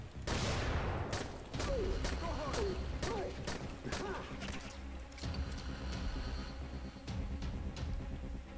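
Gunfire in the video game Dying Light: a rapid stream of close, sharp shots in quick bursts over game noise, with a player's voice talking over part of it.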